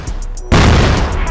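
A grenade blast in a competitive first-person shooter match bursts in suddenly and loud after quiet game ambience, then leaves a sustained rumbling wash.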